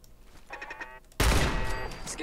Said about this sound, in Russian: как-то ее взорвал с первого выстрела